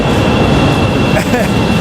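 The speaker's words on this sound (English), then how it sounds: "Even the noise of the L train." Chicago L train running, a loud, continuous rumbling roar of rail cars with a faint high whine, close and steady throughout with no distinct voices.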